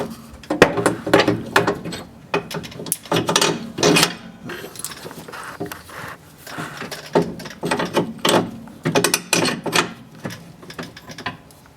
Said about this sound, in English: just tightening up the last bolt